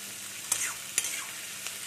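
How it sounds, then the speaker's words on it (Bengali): Onions frying in oil for birista give a soft, steady sizzle, broken by a few brief stirring clicks and splatters. "আমি এই পেঁয়াজগুলো ভাজছি বেরেস্তা করার জন্য,"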